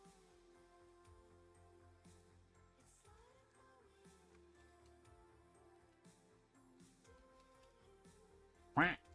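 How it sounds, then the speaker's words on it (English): A single sudden, loud duck quack bursts out near the end, standing well above a steady background of music with a faint voice underneath. "quack just scared the shit out of me."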